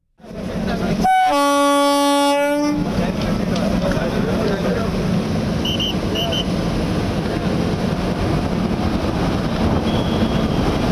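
A loud, long horn from the Brahmapur–Udhna Amrit Bharat Express blares for about two seconds, then the heavy train keeps rumbling and rattling past close by.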